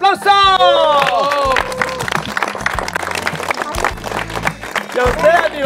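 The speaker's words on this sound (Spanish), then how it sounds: "Para los cafeteritos, ¡que suene ese aplauso!" Clapping and cheering from a crowd at an outdoor coffee-farming event for children in Bruselas, Huila, mixed with excited voices over a few seconds.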